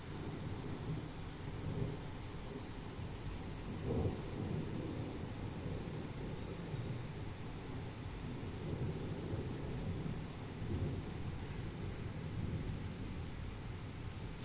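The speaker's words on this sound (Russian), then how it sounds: "На самом деле это гул грома." Low rumbling thunder rolls on continuously through a wall of heavy rain near a house, swelling and fading like a passing aircraft, with steady broadband rain hiss throughout and no voices.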